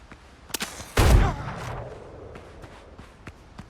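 Gunfire in the Windrose video game: a few sharp shots followed by one heavy, booming blast that rolls out, then scattered lighter cracks and footstep-like clicks, with no talking.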